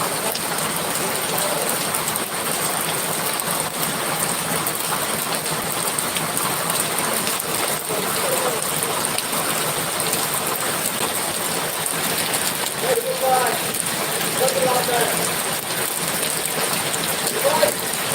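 Morning rain falls steadily, a dense, even hiss of drops on surfaces that holds at the same loudness throughout with no pauses.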